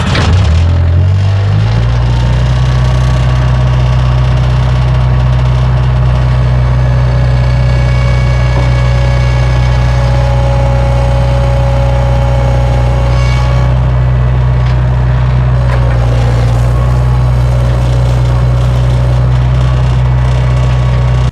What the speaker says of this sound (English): So I'm gonna take the skid steer back there, hook a chain to it